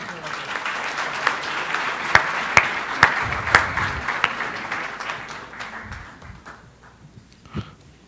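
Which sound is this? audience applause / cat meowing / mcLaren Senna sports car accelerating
audience applause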